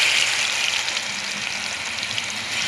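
Continuous crackling sizzle of battered bakful (sesbania flower) fritters frying in hot oil in a wok, close and steady with no voices.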